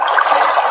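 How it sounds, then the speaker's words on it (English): A watery trickling, gurgling sound plays steadily as a phone charger connects, a brief continuous liquid burble at close range. "water sound effects. That's when the charger is connecting."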